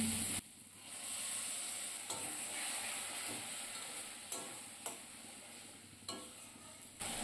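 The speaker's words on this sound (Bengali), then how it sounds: "আবারও মশলাটাকে ভালো করে কষিয়ে নিচ্ছি" Spice masala with ginger paste, tomato paste, salt and sugar being stir-fried in a pan, a steady close sizzle broken by periodic sharp clinks of a spoon scraping and stirring.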